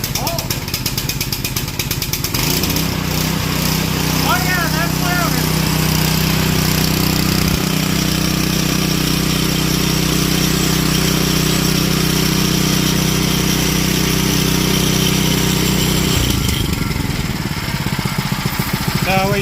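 A Bilt Hard 7HP 212cc gas engine starts and runs loud and steady, with a constant droning rumble that shifts slightly in pitch as the throttle changes.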